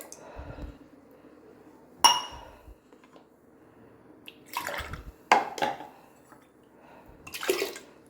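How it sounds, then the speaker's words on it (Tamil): A glass of milk poured into a pressure cooker holding rice for sweet sakkarai pongal: a few sharp glass-on-metal clinks and short, close splashing bursts of liquid, with no talking. "நம்ம அளந்த அரிசி கிளாஸை 1 கிளாஸ் பால் ஊற்றுறோம்"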